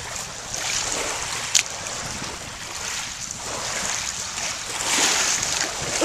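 Lake water lapping at a park shoreline, a steady washing rush with gusts of wind across the microphone and one brief sharp knock partway through.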